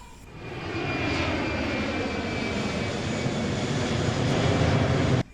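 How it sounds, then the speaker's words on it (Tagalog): An airplane at an airport in Taiwan roars with a loud, steady engine rumble that builds quickly and holds before cutting off abruptly, heard without talk. "pwede mong makita yung mga eroplanong bumababa at lumilipad"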